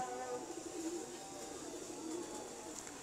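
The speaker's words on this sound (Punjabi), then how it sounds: "ਇਹ ਨੀਲਾ ਕਬੂਤਰ ਜੀ ਮੇਰਾ" Quiet, low cooing from a blue pigeon, two or three soft drawn-out coos with faint background pigeon murmurs and light room noise.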